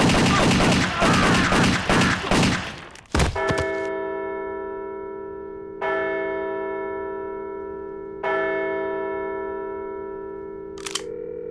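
Cartoon gunfire in an adult animated comedy: a dense burst of rapid shots, then a sharp bang followed by several sustained ringing bell-like tones.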